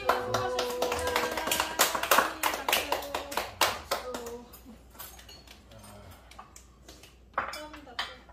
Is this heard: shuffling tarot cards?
no